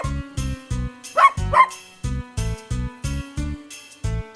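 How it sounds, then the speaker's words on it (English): A few sharp dog barks ring out over a steady, thumping musical beat in a children's farm-animal song, the barks close and clear between the beats. "Dog."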